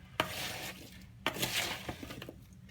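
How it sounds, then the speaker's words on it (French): Sliced apples for a gluten-free crumble are stirred in a bowl with a utensil, making two sharp clacks followed by soft wet scraping and squishing, close and fairly quiet, with no talking. "Et donc, je mélange tout ça."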